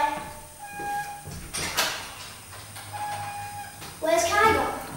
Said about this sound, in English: Do you want a hand with the door?